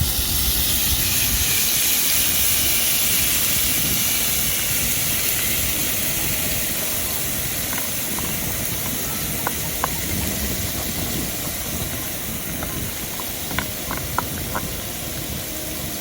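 Marinated prawns sizzle in hot oil while being stir-fried, a steady loud hiss and crackle running throughout, with a few brief clinks partway through.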